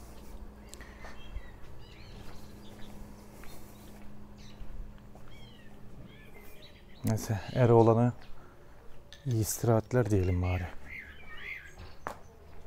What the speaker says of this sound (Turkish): Kuş seslerini duyuyor musunuz bilmiyorum.